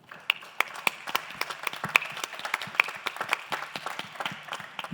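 An audience claps steadily, a dense patter of hands with sharper individual claps standing out, fairly close and without talking.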